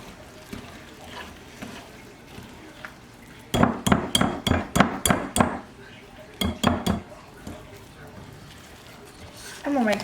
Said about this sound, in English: You just want to mix it until it's all incorporated.